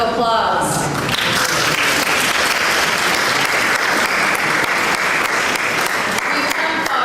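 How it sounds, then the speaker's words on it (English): An audience at a closing tribute event breaks into dense, loud applause that holds steady throughout, with faint voices mixed in at the start. "You should give yourselves a round of applause"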